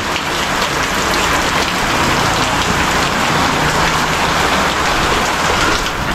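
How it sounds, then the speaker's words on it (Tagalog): Heavy sudden rain pours down in a dense, constant roar of drops hitting surfaces, loud and close, with no talking over it. "So yan, biglang umulan ng malakas."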